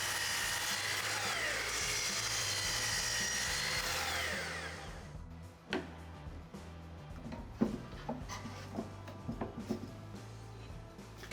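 A wood piece for a bedside table is cut to length with a power saw: a loud steady whining cut for about four seconds, then the blade winds down into scattered knocks and handling clatter.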